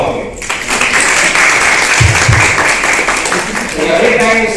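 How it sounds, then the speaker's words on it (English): Audience at a technology training program breaks into sustained applause, loud and close, many hands clapping densely throughout, with a voice speaking briefly over the clapping near the end. "Round of applause to all of you."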